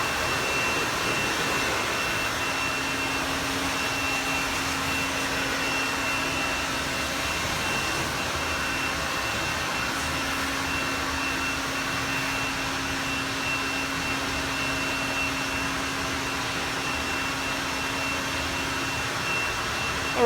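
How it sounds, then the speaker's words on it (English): A forced air blower drying a freshly rinsed new car gives a steady, loud whooshing roar with a faint tonal hum, unbroken for the whole stretch. "I'm going to use forced air to dry it."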